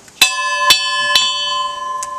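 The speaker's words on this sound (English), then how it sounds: "they ring this bell for meals on Saturday for the kids, and also when services are supposed to start" A bell rung for Saturday meals and to signal the start of services, struck three times in quick succession and then once more, each clear metallic strike ringing with a long sustained tone and no voices.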